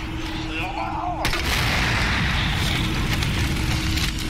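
A gunshot in the Resident Evil 2 Remake video game: one sharp, loud blast about a second in, followed by a dense, sustained roar of game noise under a steady tone.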